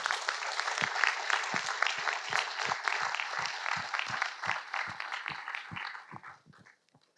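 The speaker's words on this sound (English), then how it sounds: "a round of applause for all the families that are here today." Audience at a panel event on rivers and water scarcity applauds the families present, with steady, fairly distant clapping from a moderate crowd that keeps going for several seconds before dying away.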